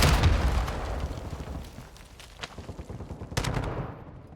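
A deep booming blast opens in Call of Duty: Modern Warfare II DMZ, followed by rumbling debris and scattered sharp pops and bursts fading out over a few seconds.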